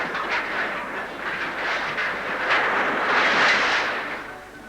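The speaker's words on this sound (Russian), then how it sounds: "Коренастые электровозы выталкивают вагонетки на поверхность земли." Electric mine locomotives push ore wagons out of a lead, zinc and silver mine, giving a steady, fairly loud rolling rumble and rattle that swells toward the end.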